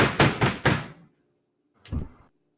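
A door opening in a narrated story scene, a short burst of clatter and rattle followed by silence and then one brief softer thump, close and isolated with no voices.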